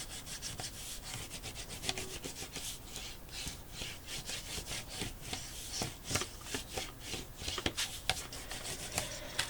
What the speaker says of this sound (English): And we'll flip this over. And burnish.